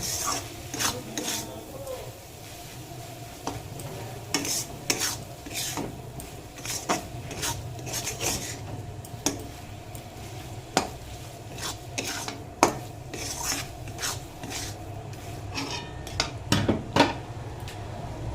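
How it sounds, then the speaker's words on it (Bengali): Eggs stir-fried with spice masala in a pan: repeated sharp metallic scrapes and clinks of a spatula against the pan over a steady low background, with no talk. "মশলার সঙ্গে ভালো করে কষিয়ে নেব"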